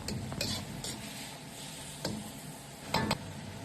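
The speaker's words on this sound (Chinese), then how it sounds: "再倒入切好的香菇和西红柿丁翻炒" Diced tomatoes and shiitake mushrooms being stir-fried in a pan with oil, ginger and scallion: faint, quiet scraping and clinking of a utensil against the pan in a few sharp strokes over a soft background.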